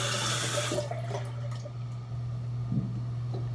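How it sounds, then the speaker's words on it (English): Cold water runs from a bathroom tap for a face rinse after a shave, a soft continuous stream with an occasional splash, fairly quiet and close, with a low steady hum beneath it. "I'm gonna get a cold water rinse to get all this stuff off my face."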